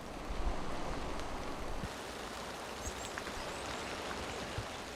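Gentle spring rain falls steadily over a wetland, a soft continuous patter and wash of drops with no talk, holding an even, moderately quiet level throughout.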